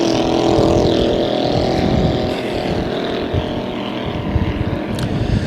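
Loud, continuous roar of a vintage solar-powered racing boat's engine on Moses Lake, droning steadily with a slight shift in pitch as it passes.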